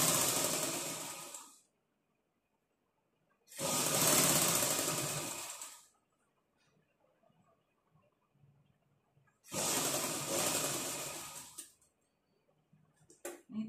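A sewing machine stitching the side seam of a blouse runs in three separate bursts of steady, fast whirring, with silent pauses and faint handling noises between runs.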